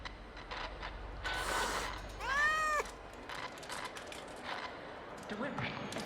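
A frightened cat in the Wuthering Waves video game gives one short, shrill rising meow partway through, heard over soft ambient game sounds and scattered clicks, with a voice speaking around it.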